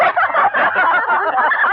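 Poultry clucking and gobbling fill a short burst, loud and close, with no talk over it; a cooked chicken dish is the setting, and the calls sound like a fowl or turkey.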